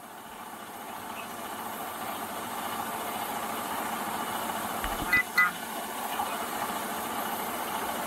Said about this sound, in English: I can't hear you because the truck's loud, bud.